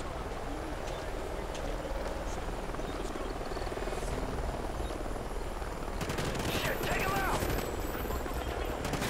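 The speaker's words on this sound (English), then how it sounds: "Helicopters." A helicopter in Call of Duty Ghosts gameplay gives a steady rotor drone throughout, mixed with gunfire bursts and explosions, while players talk over it.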